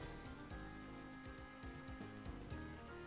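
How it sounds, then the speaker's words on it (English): Rain falling steadily on a surface, a continuous soft patter of drops, faint and even throughout with no voices. "that rain just sounds soothing"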